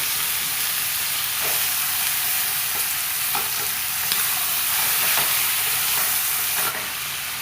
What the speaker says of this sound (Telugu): ఇక్కడ చికెన్ మొత్తం వాష్ చేసుకున్నది వేసేసుకొని ఆయిల్లో బాగా కలిసేలాగా కలిపేసుకోండి